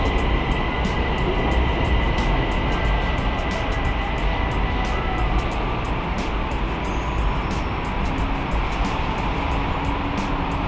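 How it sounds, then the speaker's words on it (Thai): A Bangkok BTS Silom Line electric train runs steadily, a loud continuous rumble and hum from close by with repeated rhythmic clicks of the wheels over the track. "รถไฟฟ้า สายสีเขียวอ่อนนะครับสายหรือว่าสายสีลม"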